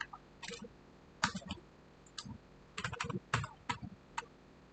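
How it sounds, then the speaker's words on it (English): Typing on a computer keyboard while writing code by hand, heard as irregular bursts of close, crisp keystroke clicks separated by short pauses, with no talking. "I have to type it manually."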